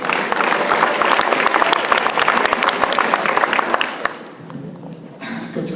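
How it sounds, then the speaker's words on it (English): Audience applause at a high school football banquet, dense sustained clapping from a crowd that fills the room for about four seconds, then thins and fades with a brief swell near the end. "Please give him a round of applause."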